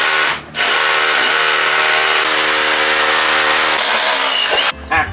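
A rotary hammer drill bores into a floor, a loud, close, steady whining drone with hammering texture that starts after a brief pause and cuts out near the end.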